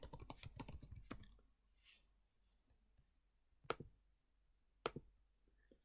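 Someone types on a computer keyboard in a quick flurry of close key clicks, followed by a few isolated, sharper taps spaced well apart.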